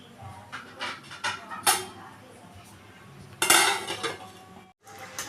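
A metal lid clanks onto a pot of masoor dal cooking with a little water, with sharp cutlery-like clinks and rattles, one loud clatter near the end, and a dog briefly audible in the background.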